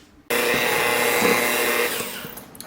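An electric mixer beating cookie dough kicks on suddenly with a loud, steady motorized whir, holds for about a second and a half, then winds down as the blades slow.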